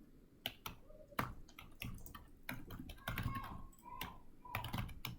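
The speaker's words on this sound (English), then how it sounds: "So I click here, I enter the website address." Keystrokes on a computer keyboard as a website address is typed, irregular clicks and short bursts at close range, fairly quiet, with no talk.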